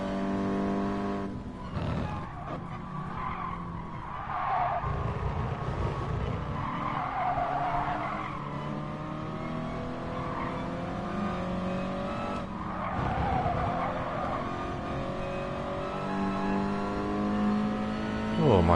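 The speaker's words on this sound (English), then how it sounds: "my car has developed a bit of a whine" In a Gran Turismo sport race, a race car engine whines under acceleration, revving loudly and continuously with rising and falling pitch and occasional tire noise. A voice speaks over parts of it.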